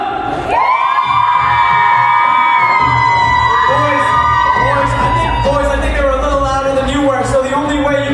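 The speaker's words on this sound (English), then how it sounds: "Bridesmaids, on the count of 3, I need you to scream as loud as you can." Bridesmaids at a Sidra and Haider barat wedding scream together at full volume, a loud sustained crowd of high whooping voices that rises sharply and holds for several seconds, with shouting and cheering continuing afterward.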